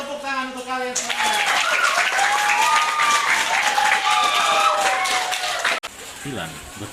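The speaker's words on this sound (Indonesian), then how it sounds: "Oke, tepuk tangan untuk kalian semua." Students in a classroom burst into lively applause and cheering, dense clapping that follows a brief stretch of speech and carries on for several seconds with excited voices mixed in before cutting off abruptly.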